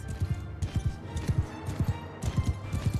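Rapid hoofbeats of several galloping horses in the video game Mount and Blade Bannerlord, a rhythmic clattering thud repeating close by over a low rumbling background.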